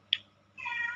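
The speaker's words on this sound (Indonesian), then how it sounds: "Kalau ada kucing saya ngeong-ngeong itu" A cat gives one short, sharp meow, then a longer drawn-out meow follows after a brief pause, close by with no talking.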